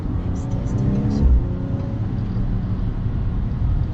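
A 2018 BMW M240i fitted with an S55 M engine revs hard as the driver tries to get the exhaust to pop, a loud, steady engine roar from inside the car with a brief surge partway through and talk over it.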